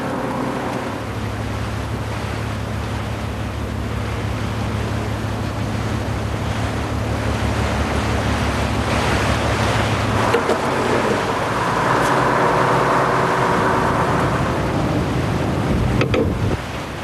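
A barge chugs along the River Severn through sand and mud, its engine a low steady throb beneath rushing water and gusts of wind buffeting the microphone, growing louder partway through.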